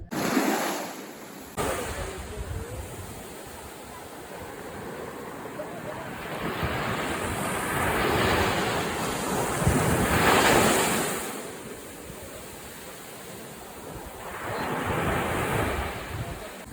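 Sea waves at Maravanthe Beach in Karnataka, Udupi district, at evening: a continuous broadband wash of surf swelling and easing in slow surges, with wind buffeting the microphone throughout.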